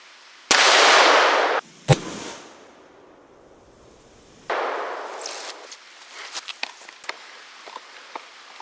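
A 454 Casull handgun fires a 360-grain hard cast bullet at light steel outdoors, a couple of loud cracks followed by a sharp metallic hit and scattered small clinks and rustles afterward.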